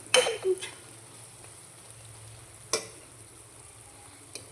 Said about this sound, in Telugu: చాలా లో ఫ్లేమ్లో పెట్టుకొని బాగా కుక్ చేసుకోవాలి